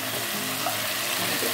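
Chicken feet dropped into a hot frying pan with kaffir lime leaves give a steady, hissing sizzle that holds evenly for a second and a half.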